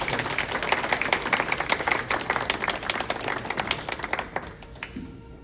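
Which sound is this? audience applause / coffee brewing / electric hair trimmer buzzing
audience applause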